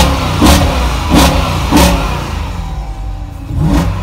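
A car with a 6.4-liter engine is revved hard four times, each a loud, close burst that rises and falls, with the engine idling steadily between the blips.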